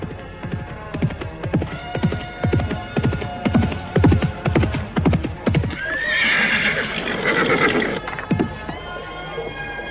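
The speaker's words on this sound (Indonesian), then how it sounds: "Pagi-pagi sudah duduk di atas kuda." A horse gives a loud, near neigh followed by a long whinny, after a run of steady clip-clop hoofbeats.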